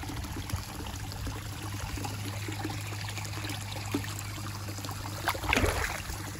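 Warm water from an outdoor hot spring trickles into a small soaking tub with a soft, steady dribble, faint and continuous, with a brief splashier surge near the end.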